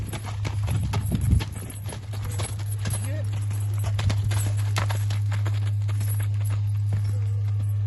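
Hooves of work horses, including a pregnant mare, clip-clop in an irregular walking rhythm nearby, with people talking over them and a steady low hum in the background.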